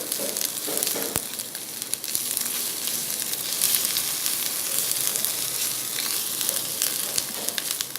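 Ginger garlic paste frying in hot desi ghee for mutton chops, a dense steady sizzle and crackle with occasional sharp pops, close and continuous with no talking.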